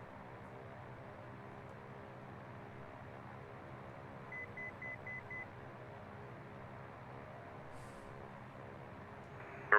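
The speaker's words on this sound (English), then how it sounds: "What in the hell is that beeping," Five quick, evenly spaced electronic cockpit beeps in a Twin Comanche in the X-Plane 12 flight simulator, heard mid-clip over a constant drone of engine noise, with a brief burst of other sound near the end.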